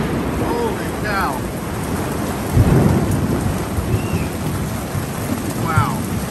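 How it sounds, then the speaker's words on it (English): Heavy rain pours in a steady hiss while thunder rumbles low and close, with a deeper roll about midway; faint chirps sound briefly over the downpour. "Just a little bit of rain"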